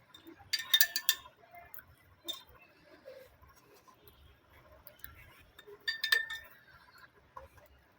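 Glass clinks against a glass jar as it is handled while mango kasundi pickle is made, a few bright taps in two short clusters, close and fairly quiet.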